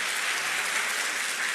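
A church congregation applauding during a sermon, a dense, loud wash of many hands clapping together, even and unbroken for the whole short stretch with no voices over it.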